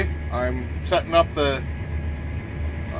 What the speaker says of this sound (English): Sorry about the tractor noise, but she's just idling away.